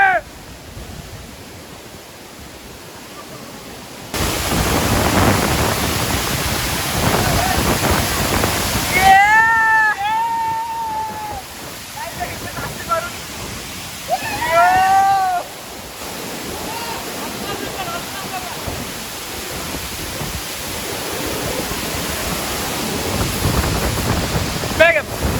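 Chaulibhaja waterfall, a hidden and dangerous falls in Mayurbhanj, gives a constant rushing roar of falling water that swells louder after the first few seconds. Several bright warbling chirps rise over the roar in the middle.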